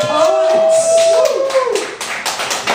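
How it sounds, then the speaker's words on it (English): Crowd at a poetry slam clapping for the poets, quick claps mixed with cheering and raised voices, loud and close over a few seconds. "Clap for the poets"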